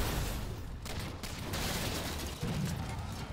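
Dense explosions and gunfire from the video game Halo 4 roar continuously as a loud, unbroken battle barrage with heavy low rumbles and sharp blasts.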